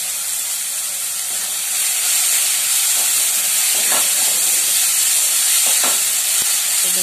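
Lifting the lid off a covered pan of chaat-style vegetables releases a loud, steady rush of steam hissing close by, swelling slightly as the cover comes away, with faint clinks underneath.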